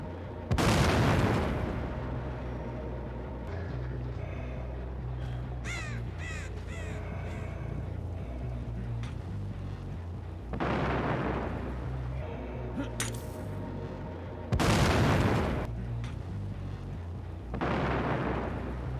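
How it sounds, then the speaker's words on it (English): A flashbang in the video game Dead by Daylight lands and sizzles on the ground: several loud bursts of hissing noise, heard up close and muffled through walls, set against a steady low game ambience. "as well as the sound of flashbang sizzling as it hits the ground"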